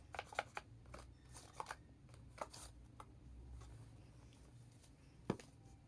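Tarot cards drawn and shuffled by hand, a series of soft, crisp papery riffles and flicks in irregular bursts, fairly quiet and close with a low background hum.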